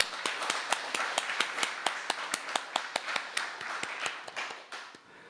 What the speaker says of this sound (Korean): 우리 감사의 박수를 드릴까요?